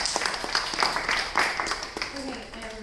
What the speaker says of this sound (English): can we give Daniel a big round of applause?